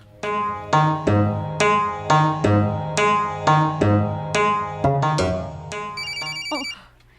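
A mobile phone ringtone for an incoming call plays alone, a loud repeating melodic pattern of bright tonal notes in a steady rhythm that ends with a short electronic flourish.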